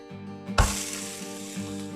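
A mamra (puffed rice) uttapam is flipped onto a ghee-coated pan, giving a sudden thud and a burst of loud, close sizzling that settles into a steady, bright crackle under a faint background hum.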